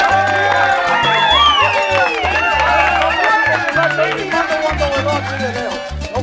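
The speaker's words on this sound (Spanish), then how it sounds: "Eso merece un tremendo aplauso." A crowd at an event claps and cheers loudly and close, with shouting voices and whistles riding over a pulsing music beat, sustained throughout.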